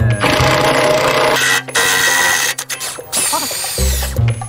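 A nut gun, a pneumatic impact wrench, works loose a badly corroded bolt on a Series Land Rover tow truck build, giving loud, steady rattling bursts with a couple of brief pauses and one restart.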